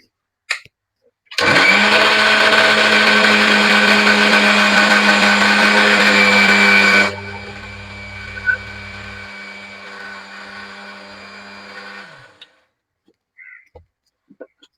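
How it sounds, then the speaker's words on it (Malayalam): An electric mixer grinder whirs loudly while blending tamarind soaked in water, running hard for about six seconds, then dropping to a softer, steady hum before cutting off, followed by quiet. "മിക്സി ഒന്ന് അടിക്കട്ടെ കേട്ടോ."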